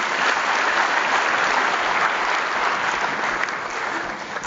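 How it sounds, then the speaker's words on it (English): An audience at a mindfulness and wellness event applauds a presenter, producing sustained, dense clapping from a sizable crowd that holds steady and tapers slightly at the end. "Another round of applause for Piyal."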